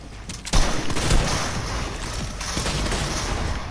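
Dense, loud bursts of video game gunfire roll on continuously, with a sharp burst near the start and constant rapid shots layered over busy game noise.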